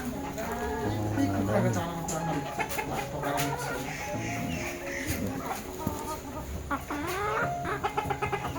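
Chickens, including silkie hens, cluck and chatter at a pet bird enclosure in Darjeeling, a steady busy flock sound close by with people talking over it throughout.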